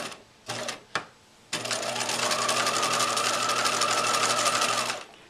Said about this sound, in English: Now that we're sewing through 2 layers of fabric, we're going to back stitch.